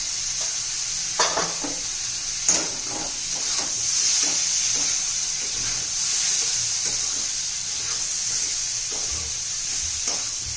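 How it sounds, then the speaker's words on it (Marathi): Spices with red chilli powder, turmeric and green chilli are sautéed in a hot pan for a spinach and carrot dish, giving a steady close sizzle with repeated stirring scrapes and occasional spoon taps. "चांगले मसाले पण परतून घेऊया आपण"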